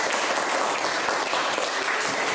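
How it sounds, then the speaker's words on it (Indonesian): A classroom audience breaks into steady applause, dense clapping at an even level throughout the short stretch with no speech over it. "Ya, beri aplaus."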